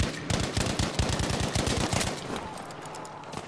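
Rapid automatic gunfire in the Battlefield V video game, played on PS4, comes as a loud, dense burst of repeated shots over about two seconds and then fades into a softer rumble.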